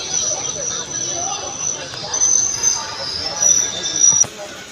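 A crowded passenger train between Chennai Central and Erode rattles along at a low steady rumble, a high metallic whine running above it, with a murmur of voices in the carriage and a sharp clank near the end.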